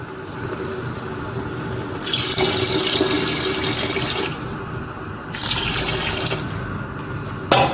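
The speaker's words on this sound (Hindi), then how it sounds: "अब जाएगा इसमें पानी" Water runs from a tap into a pot of rice and chicken for Arabian madghout rice, a steady splashing pour in two bursts with a short pause between, close and fairly loud.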